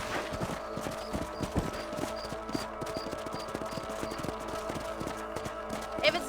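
A horse gallops in the Red Dead Redemption video game, its hooves beating a fast, even clip-clop. The sound is close and steady throughout, with faint game ambience behind it.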